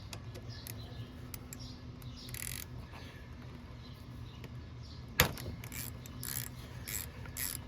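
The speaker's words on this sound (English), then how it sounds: "let's undo banjo bolt here" A wrench clicks and ratchets while undoing the banjo bolt on a 1994 Honda Goldwing GL1500 clutch master cylinder, with quick faint metallic clicks in bursts, a sharp clank near the end and light shop background, and no talking.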